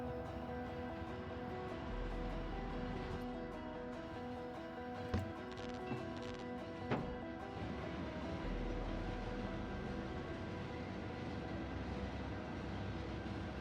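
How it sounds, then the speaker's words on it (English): An automatically controlled train running in Factorio Space Age, a quiet steady mechanical rumble and hum with a couple of faint clicks, continuous and low in level. "we're in a manually... Sorry, not manually, automatically controlled train"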